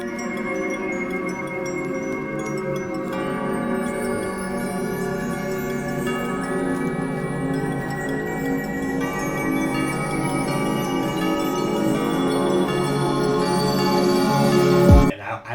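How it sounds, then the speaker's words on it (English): Layered bell tones ring through a lofi song, sustained chiming partials stacked over a steady beat and pad that build gradually toward the end before cutting off abruptly. "I just really wanted it to have a lot of freaking bell sounds."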